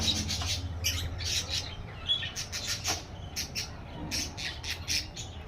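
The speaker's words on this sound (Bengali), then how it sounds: "দেখো পাখিগুলো কি সুন্দর বসে আছে ঝাঁকে ঝাঁকে" A flock of birds perched together outdoors, giving repeated squawks and chirps in scattered bursts throughout, fairly close and steady over a low background rumble, with no talking.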